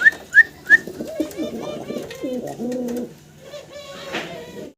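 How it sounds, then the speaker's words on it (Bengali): A pair of Bombay fancy pigeons coo close by, starting with three sharp whistling calls followed by a stretch of soft, rolling coos, with some brief background voices. "আমরা আরও এক জোড়া বোম্বাই কবুতর দেখাচ্ছি আপনাদেরকে।"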